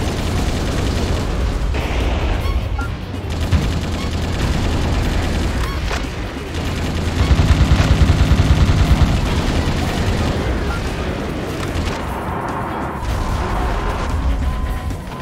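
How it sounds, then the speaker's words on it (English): Heavy, continuous bombardment from a Navy cruiser's long-range missile attack in Metal Wolf Chaos XD, a dense roar of booms and blasts that carries on without a break, loud and close. "The Navy cruiser will fire powerful long-range missiles."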